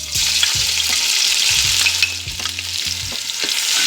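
Two spoons of ginger-garlic paste fry in half a cup of hot oil for beef nihari, giving a loud, steady, close sizzle throughout with repeated scraping stirs of a spoon against the pot and no voices.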